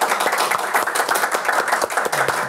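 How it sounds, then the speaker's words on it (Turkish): Steady applause from a small studio audience greeting guest Mert Başaran at the close of a talk show segment, a dense continuous patter of hand claps with no voices over it. "Alkışlar Mert Başaran'a gelsin."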